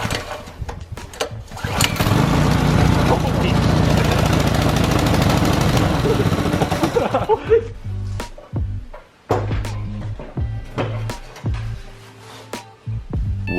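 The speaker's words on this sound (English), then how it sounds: "We're ready to start the bike." A Predator 212cc engine swapped onto a bike sputters, then catches and runs loud and fast like a lawn mower for several seconds before cutting out, followed by scattered clanks and knocks.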